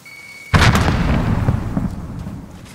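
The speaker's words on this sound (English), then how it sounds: "Tossing frag!" A frag grenade detonates in a military shooter video game, a single loud close blast after a brief quiet beep, its rumbling debris tail fading over the next two seconds.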